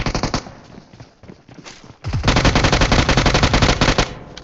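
Close, loud gunfire in PUBG Mobile starts as scattered shots, then turns into rapid sustained automatic bursts for about two and a half seconds.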